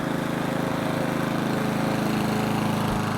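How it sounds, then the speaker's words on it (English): A lawn mower runs steadily while mowing the lawn of a large main house with tenants, a constant close engine drone with no pauses and no voices. "this is the big main house that has some tenants, and Lucius is mowing for them"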